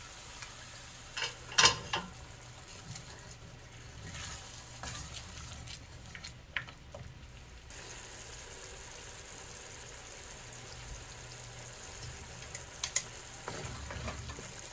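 Kishna, an onion-tomato mixture, sizzling in a pan for Yemeni fahsa as broth is added, a steady low fry with clinks and stirring scrapes, fairly quiet and close.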